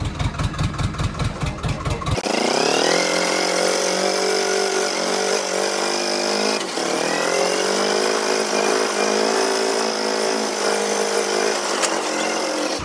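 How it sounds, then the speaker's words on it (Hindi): A tractor engine runs close by, first with a rapid rhythmic chugging, then it revs up into a loud, steady droning roar whose pitch dips and climbs again as it speeds up. "मैंने ट्रैक्टर तेज भगा दिया"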